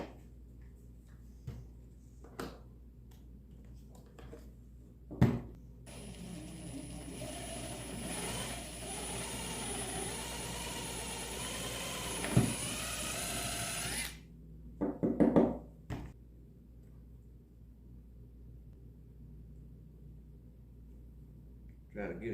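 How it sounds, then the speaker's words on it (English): A drill runs in a workshop, boring a hole in white oak: a steady whirring motor drone lasting several seconds, bracketed by bumps and knocks, with someone speaking before and after. "So we're just going to drill a hole in here"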